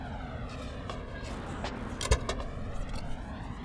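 A limousine in an anime episode idles with a steady low engine rumble, a brief soft thump partway through like a door or movement, no voices.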